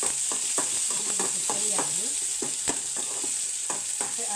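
Tomato mixture frying in a pan, with a steady close sizzle and repeated light scraping strokes of a spoon or spatula against the pan, and no talking.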